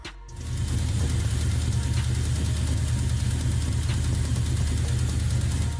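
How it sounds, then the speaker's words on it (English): Car engine with failing bearings running steadily after a brief start, producing a continuous loud low rumble with a faint repetitive metallic knock underneath and no talking. "Loud knocking from the engine."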